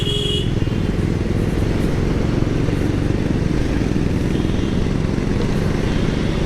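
A Triumph Speed 400 single-cylinder motorcycle engine pulls steadily under acceleration while riding, a continuous loud buzzing drone mixed with wind rush, with no voices.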